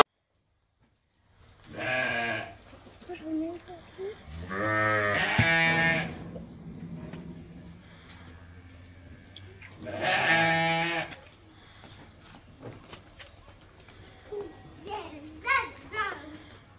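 Sheep and rams bleat repeatedly at a livestock show, with several loud, wavering calls close by. Someone speaks in between and children's voices are heard in the background.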